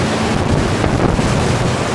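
Hurricane Ivan's winds roar around a house in September 2004, a loud continuous rushing gust with heavy buffeting on the microphone and no voices.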